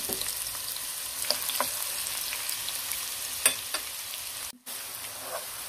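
Spice paste sizzles steadily in a pan of oil left over from frying beef, a bright hiss broken by occasional pops and a few soft stirring scrapes.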